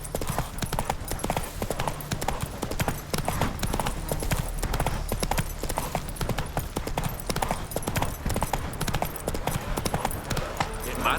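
Roach, the horse in The Witcher 3, clops steadily on hooves through the whole stretch, a busy rhythmic gait over a constant low rumble of game ambience, with a voice speaking faintly at times.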